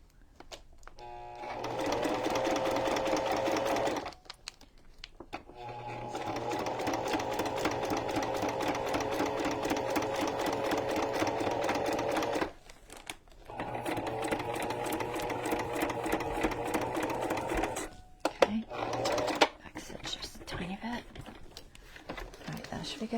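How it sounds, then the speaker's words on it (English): A sewing machine stitching a junk journal cover runs in long, steady, close-up whirring stretches of rapid stitching, broken by short pauses and a few brief clicks and taps between runs. "Alright, so we got our sewing on that side."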